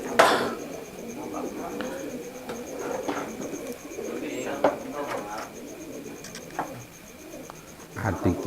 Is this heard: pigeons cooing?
yes